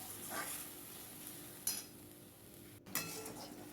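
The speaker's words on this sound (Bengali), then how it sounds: "কাজু বাদাম বাটাটা আমি এর মধ্যে দিয়ে দিয়েছিলাম, দিয়ে এই যে কষাচ্ছি" Soft stirring and sautéing of cashew paste mixture in a wok, faint scraping of a spatula with two brief metallic clinks against the pan over a low quiet sizzle.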